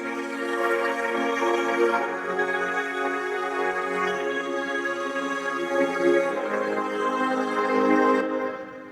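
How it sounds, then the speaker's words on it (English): Sustained orchestral string chords from the Nexus Hollywood pack's Herc Strings Chamber patch, rich layered harmonies that swell and shift smoothly, played alone with no talking. "It's a string from the Hollywood pack in Nexus strings, and this one is Herc strings chamber"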